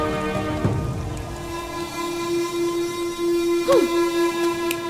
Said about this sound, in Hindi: ये जो बारिश है ये उनके मिलन की वजह से हो रही है